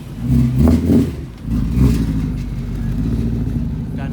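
A BMW rolls up at a Cars & Coffee show in Central Florida, its engine revving with a couple of throttle blips, then settling into a steady, close idle rumble.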